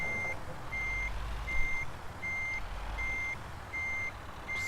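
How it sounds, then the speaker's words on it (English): Reversing truck in Euro Truck Simulator 2 sounds its backup beeper, a steady train of evenly spaced beeps about once every 0.7 seconds over a low engine rumble, with no talking. "Turn the backup beeper off."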